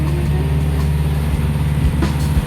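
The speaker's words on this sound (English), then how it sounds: "The sound you're hearing is the engine." A sailboat's engine runs at sea in windless conditions, giving a loud, steady low drone and hum with no pauses for the whole stretch.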